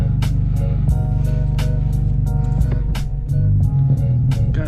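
An E85-tuned 10th-gen Honda Civic Si launches on the street, its engine loud and close with a droning tone and a rapid series of sharp pops and clatters.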